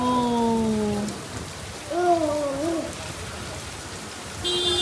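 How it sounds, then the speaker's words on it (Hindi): Rain falls steadily in a constant hiss while tonal, warbling voices or calls rise and fall over it in short bursts. "तो हम बारिश रुकने का वेट कर रहे थे कि कब बारिश रुकेगी।"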